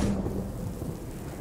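Thunder rumbles low and heavy under steady rain in the video game Death Stranding, strongest at the start and then settling into a continuous wash of downpour.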